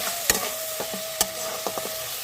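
Spices and chili powder for hilsa curry are stir-fried in oil, a continuous sizzle broken by several sharp scraping knocks of a spatula against the pan, close and loud, no voices.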